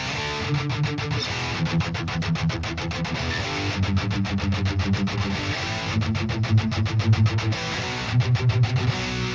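Metal electric guitar run through Neural DSP plugins with a Corona 19 impulse response, thick distorted chugging riffs with tight, rapid palm-muted stabs, loud and steady with no talk.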